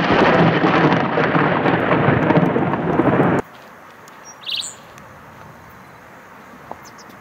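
Loud, dense crack and roar of thunder from a nearby lightning strike in a storm over New South Wales, Australia, rumbling for about three seconds before cutting off abruptly, followed by quiet ambience with a faint bird call.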